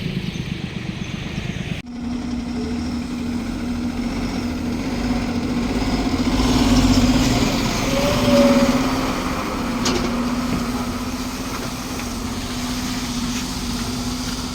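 Sand-loaded truck engine pulling away on a road in Gujarat, a steady loud droning rumble with a slight rise in revs midway, heard alone without talk.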